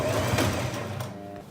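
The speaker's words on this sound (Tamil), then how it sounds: "லாக் ஸ்டிச் போட்டு இப்போ முடிச்சிடலாம்." A sewing machine lock-stitches falls onto a saree in a short, close mechanical run that whirs and rattles, then slows and fades after about a second.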